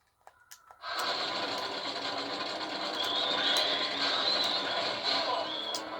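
A machine gun in the Van Helsing video game fires in one long, continuous rattling burst, loud and dense after a brief quiet start.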